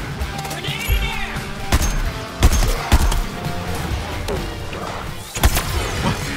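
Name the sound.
grenade exploding in the video game Suicide Squad Kill the Justice League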